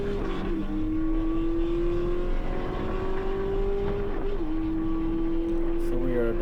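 A Volkswagen MK8 GTI runs hard down the back straight at Shannonville race track, the engine note holding high and steady from inside the car, stepping down briefly at shifts, with someone talking over it.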